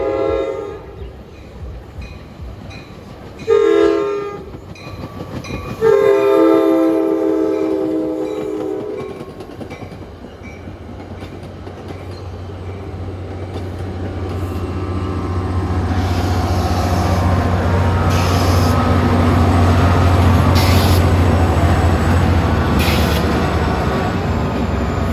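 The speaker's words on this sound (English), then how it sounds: "we have a Hoboken bound train arriving." An NJ Transit train bound for Hoboken arrives with several loud horn blasts up front, then rolling wheels and rumbling cars build steadily and stay loud as it passes close by, with no talking.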